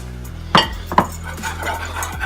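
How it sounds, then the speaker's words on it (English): A utensil clanks and scrapes against a pan as flour is stirred into melted butter over medium heat for a roux, with two sharp knocks followed by softer stirring sounds. "And we stir it all in."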